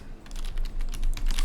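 Rapid typing on a computer keyboard, a close, continuous clatter of key clicks in quick irregular bursts with no voices.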